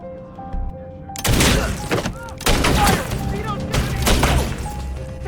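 A burst of loud gunfire with sharp cracks and crashing impacts, repeated in several volleys over rumbling noise.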